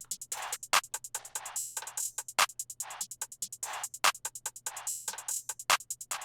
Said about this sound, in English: The last sound we have, guys, is that typical Zay chant